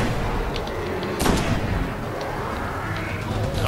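Grenade blasts in the video game Destiny, a dense roar of battle with one heavy explosive burst and several sharper bangs over a constant loud rumble.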